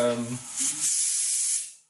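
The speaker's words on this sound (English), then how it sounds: "watch out for the pressure coming out, the steam" Steam hissing out of a pressure cooker cooking dal, a loud, sustained airy hiss that swells after a brief voice at the start, then fades away.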